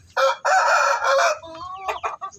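A rooster crows loudly and close by, one long drawn-out call that breaks into a rough trailing end, followed by a few short clucks.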